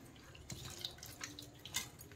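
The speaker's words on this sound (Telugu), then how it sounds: "ఇప్పుడు వాటర్తో క్లీన్గా కడిగేసుకోవాలి" Mushrooms being washed in water make quiet splashes and drips, with scattered small sloshing sounds at an uneven rhythm, faint and close, with no speech.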